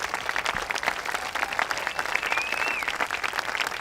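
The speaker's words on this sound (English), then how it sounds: "And let's give them a really big hand of applause." Warm applause at a Little Italy neighborhood meeting, steady crowd clapping for staff heard at moderate distance, even and continuous, with a faint whistle-like tone briefly rising over it.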